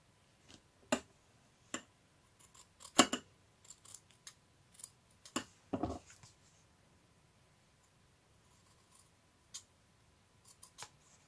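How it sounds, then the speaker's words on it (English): Scattered quiet snips of fabric scissors cutting fabric, irregular clusters of crisp clicks with pauses between, close but faint, no voices. "I feel like my fabric scissors are not cutting as good anymore"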